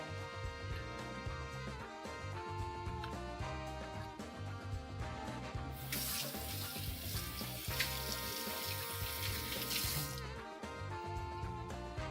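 A kitchen tap runs for about four seconds mid-clip during dinner cooking, a faint hiss of flowing water over quiet background music.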